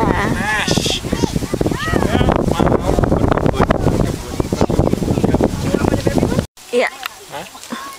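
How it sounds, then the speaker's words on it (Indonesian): Wind gusting at a beach, a loud rumbling roar buffeting the microphone almost continuously before a brief break near the end, with people talking over it. "Angin ya."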